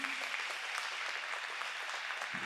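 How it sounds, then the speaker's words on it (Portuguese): Faint, distant-sounding applause from a congregation at an evangelical worship service in Criciúma, Brazil, a brief, even patter of many hands lasting a couple of seconds. "Dê mais uma salva de palmas para ele então"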